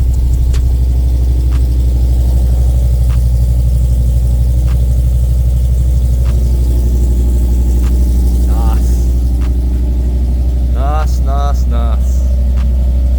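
Ford XR5 turbo car engine running at a cold idle, a steady low rumbling drone that holds evenly throughout, with a few brief voices in the background near the end.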